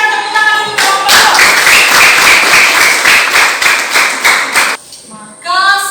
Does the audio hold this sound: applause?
yes